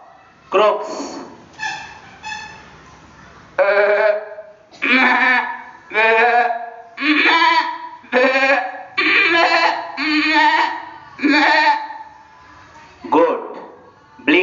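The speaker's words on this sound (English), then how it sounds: "Goat, bleats." Goat bleating plays as a series of loud, wavering, nasal bleats, one after another with short gaps between them for several seconds.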